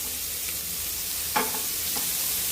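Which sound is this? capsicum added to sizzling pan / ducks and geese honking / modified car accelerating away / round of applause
capsicum added to sizzling pan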